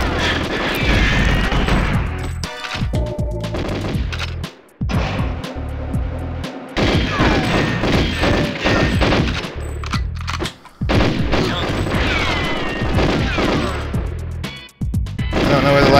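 Incoming gunfire in GoldenEye 007's Cuba control center mission rattles out in loud, sustained automatic bursts with booming hits and crashes, broken by a few brief pauses and resuming heavily.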